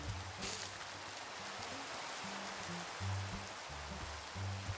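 Steady Minecraft rain, a soft continuous hiss of falling drops at low volume, with faint low hums drifting in and out beneath it.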